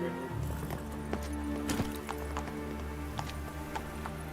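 Roach, a horse in The Witcher 3, trots and gallops with steady hoof clip-clops, joined by a short whinny and game background sounds, with faint talk in the background.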